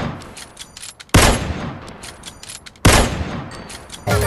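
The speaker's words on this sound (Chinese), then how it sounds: "狙击枪呢不得不说它这个音效方面是做的真的还原" Sniper rifle shots from a Minecraft gun mod ring out as two loud, sharp reports about two seconds apart, each trailing a crackling tail, with a third shot starting at the very end.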